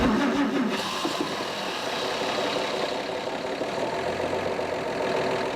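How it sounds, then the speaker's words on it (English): The inline six-cylinder overhead valve engine of a 1935 Chevrolet Standard runs with a steady, mid-pitched drone at close range, holding an even note with slight variations and no talk. "It's a 6-cylinder overhead valve inline engine, which Chev brought out in 1929"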